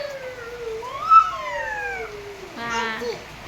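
A high, wavering meow-like call, drawn out then rising, followed by a shorter nasal cry; a voice imitating a cat.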